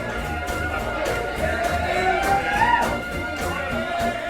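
Busy street ambience in New Orleans, with a dense murmur of crowd voices, some rhythmic music and a rising melodic line carrying over steady outdoor noise.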